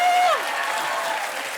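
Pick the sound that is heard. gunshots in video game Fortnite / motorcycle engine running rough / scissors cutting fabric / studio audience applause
studio audience applause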